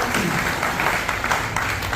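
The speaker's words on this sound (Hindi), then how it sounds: "जोरदार तालियां बजाकर इनका अभिवादन करें" An audience at a cow shelter applauds a visiting saint after a satsang, with loud, dense, continuous clapping from a crowd close by.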